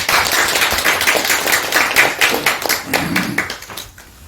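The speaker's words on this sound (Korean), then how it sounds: "감사의 박수를 부탁드립니다." Audience members at a seminar applaud a lecturer with a short burst of clapping. Individual claps stand out near and fairly loud before the applause fades within about four seconds.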